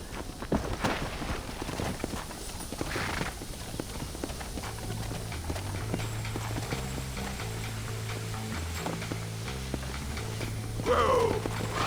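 Horse hooves clip-clopping in the video game Red Dead Redemption 2, a steady rhythmic trot of clopping steps heard over a low droning background score.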